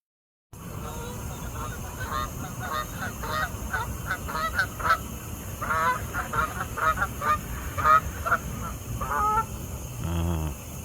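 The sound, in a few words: Canada geese honking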